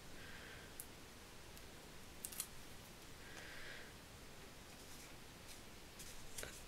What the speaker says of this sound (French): Je vais couper des petites lamelles de mousse 3D.